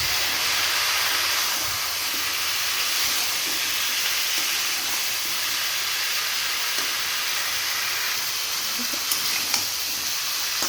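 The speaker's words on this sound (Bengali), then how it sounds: "ভাজা হয়ে গেছে, এবার মিষ্টি কুমড়োগুলো দিয়ে দিব" Pumpkin pieces added to frying spices in a pan give a broad, even hiss of sizzling oil that holds steady throughout, with a few faint stirring knocks near the end.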